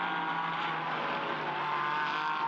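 GT race cars in a racing video game at Barcelona, a continuous dense engine roar sustained through the whole moment as cars pass close by, with no talk.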